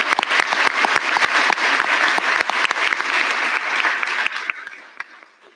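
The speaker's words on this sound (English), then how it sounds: "So if you want to applaud for those people now." A town meeting audience claps together in a hall, a dense, fairly close round of applause that holds steady and then thins out and fades over the last second.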